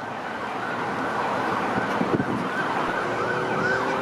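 An ambulance siren from Hill Regional paramedics, rising and falling steadily as the vehicle cuts eastward through traffic on Dundas Street West in Mississauga, heard at moderate distance over continuous road noise.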